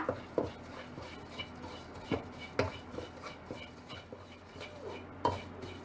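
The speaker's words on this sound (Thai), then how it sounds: "จากนั้นก็ใส่พริกป่นลงไปเลยค่ะ ใช้ไฟอ่อนนะคะ แล้วก็คั่วจนพริกหอมดีค่ะ" Chili flakes being dry-roasted in lard over low heat in a pan, heard as soft, quiet stirring with periodic light taps and scrapes of a utensil against the pan.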